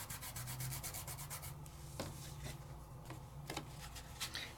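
Microfine glitter on stamped paper is burnished with quick, close scratchy rubbing strokes, repeating rhythmically with a few sharper swipes.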